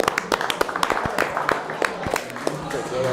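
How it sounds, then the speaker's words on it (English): A few people clap in scattered, uneven bursts at a head coaches media day, the sharp claps sitting close by under ongoing conversation. "Clap it up"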